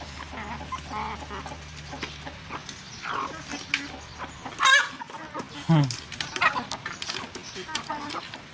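White hens cluck in short bursts over a low background in the evening, with a sharper squawk midway and scattered farmyard noise throughout.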